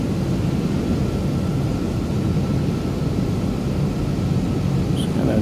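A Douglas DC-3 comes in to land in Microsoft Flight Simulator 2020, its engines giving a steady, broad droning roar that holds even and loud from start to finish.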